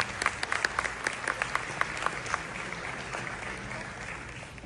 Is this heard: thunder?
no